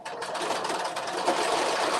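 A sewing machine stitching a rolled hem on an off-the-shoulder dress, a steady fast mechanical whir with rapid needle clatter, close and continuous with no talking.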